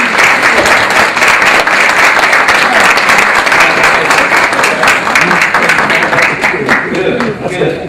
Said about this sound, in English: All Rubes in the room, please stand and give them a round of applause.